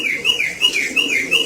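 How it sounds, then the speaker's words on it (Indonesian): Loud, close, rhythmic whistling bird calls from pigeons repeat in a steady rising-and-falling pattern several times in quick succession, with no talk over them. "yang di belakang saya ini adalah burung dara"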